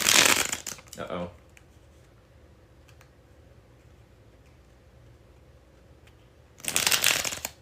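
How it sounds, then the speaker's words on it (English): Tarot deck bridge-shuffled in two bursts, a sharp rapid riffle flutter at the start and another near the end, close and crisp, with a quiet gap between. "here it is, the bridge shuffle"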